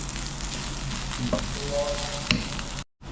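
Masala fries in a pan as Kashmiri chili powder is stirred in, a steady close sizzle with soft scraping strokes and a brief clatter near the end before it suddenly cuts to silence.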